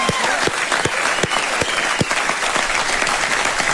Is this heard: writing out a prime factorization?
no